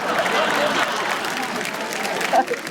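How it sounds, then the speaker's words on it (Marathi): Audience applause at a televised women's show: a moderate, steady patter of many hands clapping together, with a voice briefly rising near the end. "जोरदार टाळ्या झाल्या पाहिजे."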